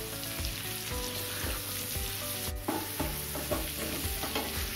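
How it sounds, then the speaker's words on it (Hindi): Nigella seeds and carom stirred into hot oil for amla pickle make a soft, continuous sizzle, with repeated scraping strokes of a spoon against the pan, fairly quiet and close, without speech. "कलौजी ऐड कर देंगे और इसको अच्छे से चला देंगे"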